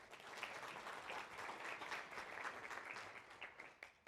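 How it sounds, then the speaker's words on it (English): An audience clapping together in a hall, a dense, even patter of many hands held at a distance and fairly faint, with no one speaking over it. "Go ahead and give yourself a big round of applause"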